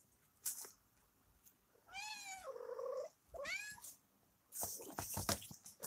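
Several house cats meow and yowl in a scuffle indoors, two long drawn-out wailing meows in the middle framed by sharper bursts of hissing and scrabbling, moderately loud and close.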